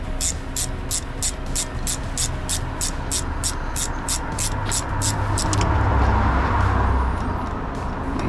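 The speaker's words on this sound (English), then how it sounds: "You hear all the cars flying past." Cars flying past on a road beside a broken-down dustcart under heavy recovery, a steady traffic roar with a regular ticking clatter early on and a louder low rumble as a vehicle goes by near the end.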